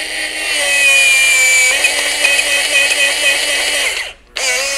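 Cordless power flaring tool flaring a metal tube, a loud close motor whine running steadily for about four seconds with a slight pitch shift, a brief stop, then a short restart.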